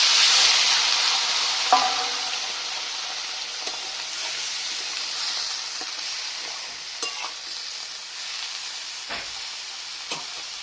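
Water hits a hot pan of khoira fish curry with potato, cauliflower and eggplant, raising a steady close hiss of sizzling and steam, broken by a few light clinks of stirring.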